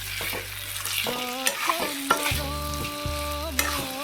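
A spatula stirs boiled potatoes through frying masala in a pan, with soft sizzling under a few distinct scraping knocks spread across several seconds.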